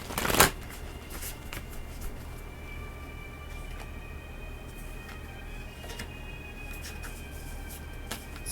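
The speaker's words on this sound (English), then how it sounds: "Shuffle and see what we get." A tarot deck shuffled by hand in a steady, continuous papery riffle over a low background hum, close and moderately loud, opening with a sharp knock and carrying on alone without speech.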